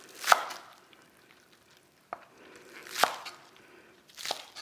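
A knife cuts scallions into pieces on a board, a few sharp, well-spaced chops close up with quiet gaps between them.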